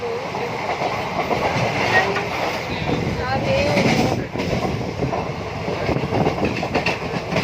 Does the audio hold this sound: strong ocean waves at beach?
no